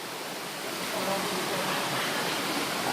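Ton Pliu waterfall pours in a steady, close, broadband rush of falling water that holds constant throughout, with no talking.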